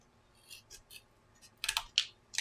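Scissors snip through ribbon being cut for an Easter bow, several short crisp cuts, sparse at first and then in a quicker cluster, close and fairly quiet with no talking.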